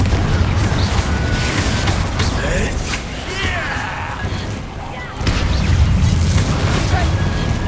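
Confringo fire-blast spell explosions in the Hogwarts Legacy video game, heavy booming crashes with rumbling debris, a brief dip then another loud burst; a voice speaks over part of it.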